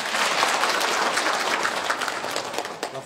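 A crowd applauds with steady, many-handed clapping that holds evenly and then thins and fades toward the end.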